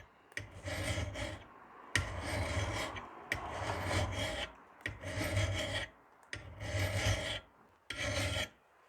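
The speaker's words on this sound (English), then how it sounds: "So I'm gonna do a little bit more filing." A metal file rasps against a chipped axe blade in six steady strokes separated by short pauses, close and fairly quiet, with no talking.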